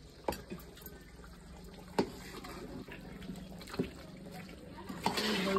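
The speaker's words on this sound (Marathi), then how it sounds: "आता हे गरम पाणी जे आपण ठेवलं होतं ते त्याच्यामध्ये ओतायचं आहे ना" Hot water is poured into chicken curry cooking in a pot over a wood-fired stove, a soft low splashing broken by a few clinks, swelling into a fuller pour at the end.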